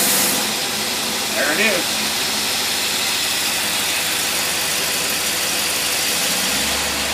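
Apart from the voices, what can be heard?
car engine revving up with Holley 4412 carburetor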